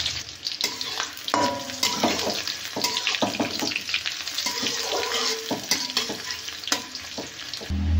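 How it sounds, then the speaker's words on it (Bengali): Chopped onion frying in hot oil with bay leaves and dried and green chilies, a bright crackling sizzle with frequent scraping stirs of a utensil in the pan, close up and without talk. "এই পেঁয়াজ কুচি দিয়ে দিলাম।"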